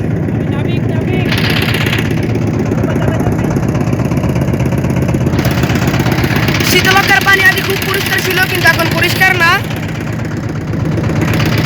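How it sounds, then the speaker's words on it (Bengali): A trawler boat's engine thuds along in a steady, loud low chug on the Shitalakshya river, running continuously under a person talking, with some higher rattling and splashing noises mixed in. "আমাদের সাথে একটা ট্রলার যাচ্ছে, আমরা নৌকা দিয়ে ঘুরছি"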